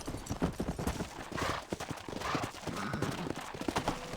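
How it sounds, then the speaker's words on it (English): Horse hooves clip-clop steadily in the Red Dead Redemption video game, a quick rhythmic trot of close, distinct hoofbeats with game ambience behind, lasting the whole stretch. "Go on. Hit your horse and wait for me by the stable."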